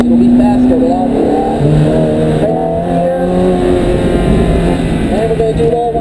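A race car engine climbs and holds under throttle, a loud continuous droning whine with rising harmonic pitch, while a voice talks over it throughout.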